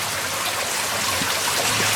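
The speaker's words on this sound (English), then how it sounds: "The waterfall's off on the right there." An underground waterfall inside an old mine, a steady dense rush of falling water with a constant hiss and no breaks, heard from a short distance with no voices.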